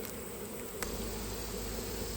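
Honey bees buzzing around an open hive during honey harvesting, a continuous faint drone of many insects with no voices.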